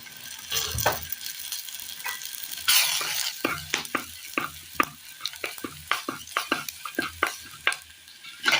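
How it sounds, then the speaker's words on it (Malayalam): A spoon repeatedly scrapes and stirs a sizzling mixture of chili powder, turmeric and oil in a pan, with close, rhythmic strokes over a steady frying hiss. "മൊത്തത്തിലൊന്ന് മിക്സ് ചെയ്യാം."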